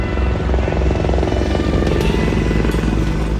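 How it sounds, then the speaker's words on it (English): An Apache helicopter thunders close overhead, flying low over a river, its rotor chop a loud continuous throbbing drone that stays steady and powerful throughout. "The powerful Apache helicopter flying low over the Cape Fear River in North Carolina."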